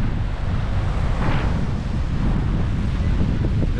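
Strong wind roars steadily across an open beach shoreline at Shelly Beach, a constant broadband rush with gusts buffeting close to the microphone, no voices present.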